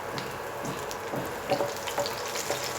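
Peanuts frying in hot oil in a pan on a switched-off induction hob, a steady close sizzle with soft crackles and occasional stirring scrapes.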